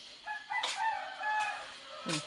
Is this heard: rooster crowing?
yes